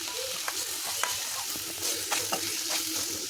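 Onion and tomato frying in a pan give a continuous soft sizzle with a few faint stirring scrapes, close and quiet, no voices.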